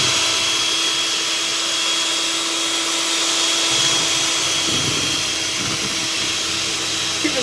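Electric mixer whipping a fluffy mixture and stepped up one more notch in speed, giving a loud, steady, close motor whir with a constant tonal hum that holds without letup throughout.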